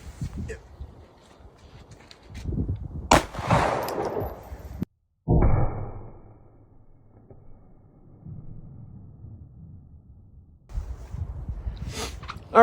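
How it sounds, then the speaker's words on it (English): Defiant Munitions 9115 TCX rounds fired into a gelatin block, a couple of sharp, loud gunshot bursts with ringing decay, then quieter handling noise and movement, with speech present. "We got 9115 TCX, and then the 9135 TCX-S subsonic, and then we'll check the gelatin"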